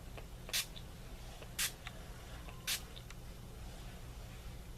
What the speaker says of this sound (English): And then just do a few sprays.